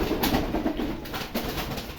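Pigeons in a home loft coo in soft, rolling murmurs, close and continuous against a busy, hissy backdrop.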